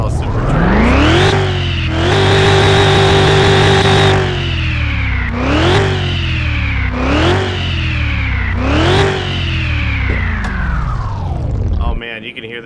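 Jaguar engine in Car Mechanic Simulator 2021, revving repeatedly; it winds up in rising, whining surges that hold briefly and then fall away, loud and close, before cutting off near the end.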